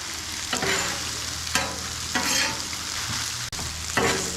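Tomatoes and tortellini sizzle steadily in a hot pan, a continuous close frying hiss broken by a few stirring scrapes.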